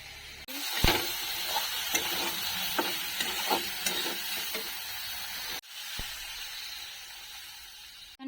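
Cumin seeds and taro (kochu) vegetables frying in hot oil in a home kitchen, a steady broad sizzle with a few louder pops and spatters, broken by a brief pause partway through, with no talking.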